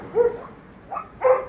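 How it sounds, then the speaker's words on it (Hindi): Dogs in a Serbian village give a few short, close barks and yips with a brief pause between them. "कुत्ते बड़े भौंकते हैं यहाँ पे, हर घर में कुत्ते हैं और सारे भौंकते रहते हैं।"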